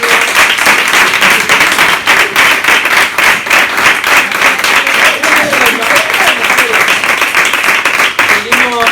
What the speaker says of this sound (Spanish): Venga, un aplauso para este niño